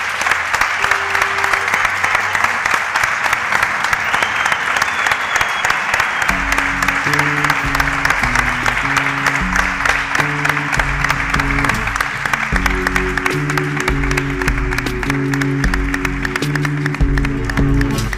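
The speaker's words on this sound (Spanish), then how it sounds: "deseemos un feliz verano con aplausos" A studio audience applauds continuously to close out a radio season, dense steady clapping that carries on as music with sustained tones enters partway through.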